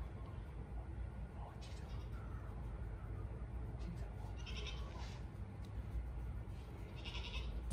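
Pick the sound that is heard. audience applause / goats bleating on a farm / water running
goats bleating on a farm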